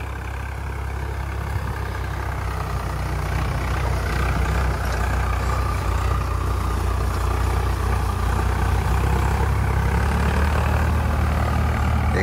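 A Swaraj 855 4x4 tractor pulling a harrow through a field, a steady low diesel drone that holds even and loud throughout, with no talk.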